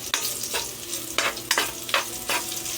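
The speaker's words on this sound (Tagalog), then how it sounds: "Pag nagisa ako mga lods, sinuuna ko yung bawang" Chopped garlic sautés in a hot pan for a Filipino home-style lunch dish, giving a steady close sizzle broken by several sharp scraping bursts as a spatula stirs it.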